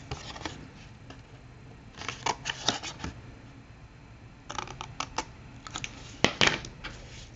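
Scissors snip the corners off a 5.5 by 5.5 inch square of cardstock, giving a run of short, crisp close-up cuts in irregular bursts with paper rustling between them and no talk.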